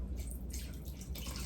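Chicken broth pours into a baking dish with cream and seasoning for a chicken and rice bake, a soft, close liquid splashing and dripping in uneven bursts over a low background hum.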